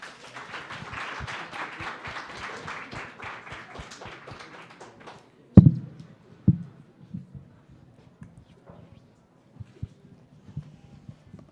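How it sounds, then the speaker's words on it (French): Applause from an audience at a health and rehabilitation conference in Montreal as a speaker is welcomed, steady clapping for about five seconds that then breaks off into a few scattered taps and knocks in a quiet room. "Accueillez-la avec beaucoup d'applaudissements."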